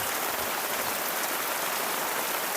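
Heavy rain pours down in a steady, dense hiss that stays even and unbroken throughout, with no voices.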